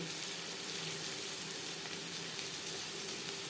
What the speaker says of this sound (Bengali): 2-3 মিনিট পেঁয়াজ ভেজে নেওয়ার পর দিয়ে দেবো পরিমাণ মতো হলুদের গুঁড়ো